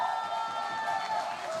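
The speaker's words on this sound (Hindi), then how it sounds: "एक बार जोरदार तालियां हो जाएं" A crowd applauds and cheers continuously, a dense, steady wash of clapping and voices.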